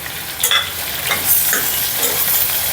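Tomatoes, green chillies, mint and coriander for a meal maker pulao sizzle loudly and close in a hot pan, with repeated scraping stirs over the frying hiss.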